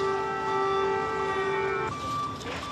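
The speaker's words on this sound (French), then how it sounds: "Partout, ces sirènes." Air raid sirens wailing across a Ukrainian city during a massive Russian drone attack, a steady sustained tone that shifts pitch near the end amid distant background noise.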